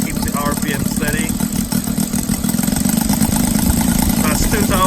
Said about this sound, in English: so you can see how smooth the engine transition keeps the RPM steady